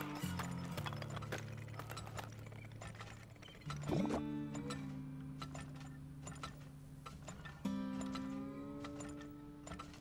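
Horses clip-clop in a quick, steady rhythm in the oil-drilling game Turmoil. Low droning game tones and plinking effects run underneath.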